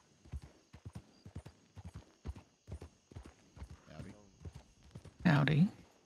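Horse hooves clip-clopping in the Red Dead Redemption video game, a steady walking rhythm of close, moderate hoofbeats, joined near the end by a louder burst that may be a whinny.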